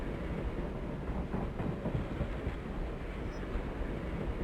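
Train wagon rolling along rails in an Inspector Gadget cartoon, a steady loud rumbling clatter that continues unbroken throughout, with no voices over it.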